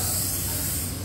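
Paint sprayer hissing as it coats a cow statue at the Delaware State Fair, one steady close spray running through the whole moment with no talking.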